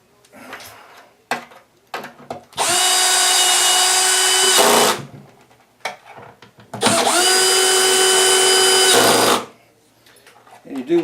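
Power drill whirring in two long bursts, each a couple of seconds, as it drives screws into a Peavey SP 5 speaker basket, with short handling clicks between runs; loud and close.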